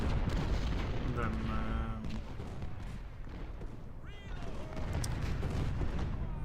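Civil War artillery in Ultimate General: Civil War, muffled booms and crackling distant fire under a speaking voice and battle ambience.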